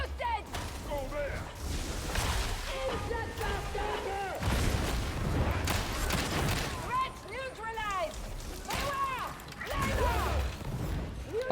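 Gunfire in the Warhammer 40,000 game Darktide, shots fired down a hallway as dense repeated blasts and crashes, loud and chaotic, with frantic voices shouting over them throughout.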